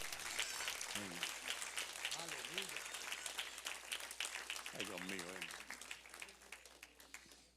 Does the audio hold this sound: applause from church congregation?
yes